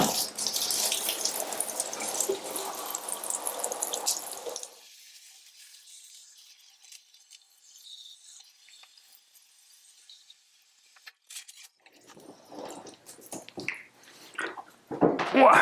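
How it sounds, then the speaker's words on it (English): A small shower head runs water into a bathtub, a loud broadband rush for about five seconds that then cuts off, leaving quiet handling noises and a few splashes near the end. "I actually have this little shower head thing in the bathtub too"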